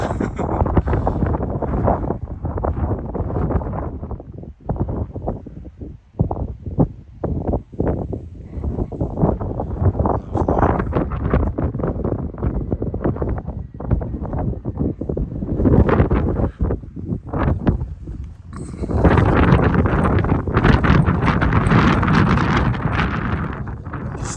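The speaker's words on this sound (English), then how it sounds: "it's a bit of a wind blowing, so I hope you can hear me still" Strong wind buffeting the microphone on an exposed hilltop near Stannington and Dungworth in the Peak District, a loud continuous roar with gusty surges and rumbling low buffets, swelling stronger toward the end.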